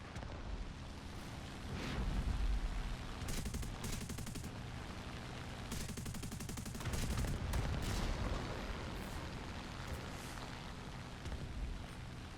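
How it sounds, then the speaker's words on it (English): Aircraft guns strafing soft ground targets in War Thunder, flown in a Ki-61-I otsu: dense rattling bursts of gunfire with heavy booming impacts, continuous and loud throughout, several sustained firing runs and no talk. "strafing the hell out of all the soft targets at the moment for all the credits and the extra XP"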